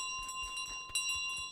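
A small bell jingles in Untitled Goose Game, carried by a goose, with soft metallic tinkles repeating in a loose rhythm over a steady tone, close and moderately quiet, with no talk.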